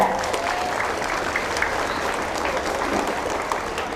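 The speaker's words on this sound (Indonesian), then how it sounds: "Tepuk tangan untuk Indonesia" Students at a Monday school flag ceremony applaud together, a steady, dense wash of many hands clapping that fills the whole stretch at a constant level, with faint voices mixed in.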